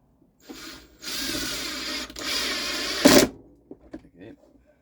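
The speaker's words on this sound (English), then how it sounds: "I'm gonna try to get one screw in there." Power drill driving a screw into wood during headstock work, two sustained whirring bursts of about a second each followed by a short louder grinding surge as the screw seats, then scattered light handling clicks.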